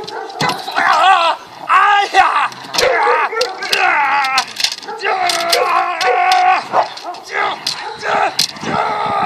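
A dog barks, yips and howls in rapid, excited bursts, close and loud, with people shouting over and between the cries.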